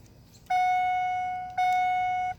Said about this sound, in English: You get the door chime or the key chime